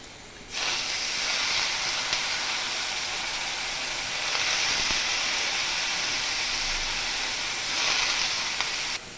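Bitter gourd hits a hot pan of fried onions with a sudden loud sizzle that keeps hissing steadily, swelling a little in places; no one speaks.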